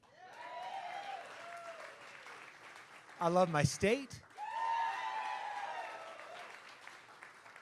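A rally crowd applauds for a Republican state representative candidate in San Antonio, a short burst of clapping and cheering that swells after a line of speech and continues under the speaker's voice.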